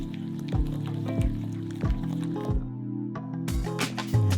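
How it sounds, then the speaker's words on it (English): Banana, sugar, vanilla and canola oil squelch wetly in a large bowl as they are stirred together, with soft repeated squishing pulses about every half second, close and steady. "and mix the ingredients together"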